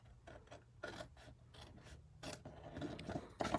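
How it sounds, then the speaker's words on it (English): Scissors or a blade trimming envelope paper along a flap as a template, a series of short dry rasping cuts and rustles, close and fairly quiet. "when I flip it over, I can quickly trim using the envelope flap as my template"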